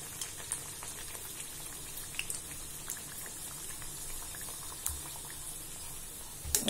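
Bedmi poori frying in hot oil, a quiet, steady fizzing bubble with scattered tiny pops and crackles, faint and continuous with no talking.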